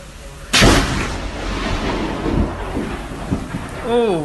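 Thunder from a lightning storm breaks as a sudden loud crack, then rumbles on and fades over several seconds, with rain and wind in the background and a brief voice near the end.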